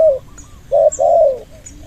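A bird gives a few short, clear cooing calls close by, separated by brief pauses, with no voices over them.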